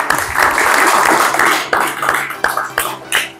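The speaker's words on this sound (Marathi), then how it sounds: "तर त्यांच्यासाठी एक वेळा जोरदार टाळ्या होऊ द्या" Applause for the wrestling coaches at a summer wrestling training camp: a crowd clapping steadily for a few seconds, fairly loud and dense, with a few sharper claps standing out near the end.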